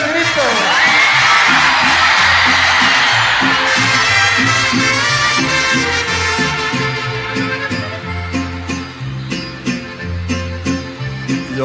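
A live crowd at a ranchera concert lets out a loud, sustained shout on cue, then keeps cheering and whooping under the band's accompaniment, the noise staying dense throughout.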